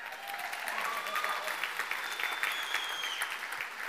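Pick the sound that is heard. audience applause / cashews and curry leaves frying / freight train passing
audience applause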